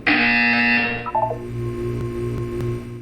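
A harsh electronic buzzer from the video game Portal 2 sounds loud and steady for about a second, then gives way to a few short rising electronic tones over a low humming game backdrop.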